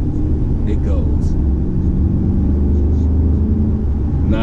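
Mercedes-Benz S550 convertible with a bi-turbo V8 accelerating in sport mode, a loud, steady low engine rumble with wind noise inside the car.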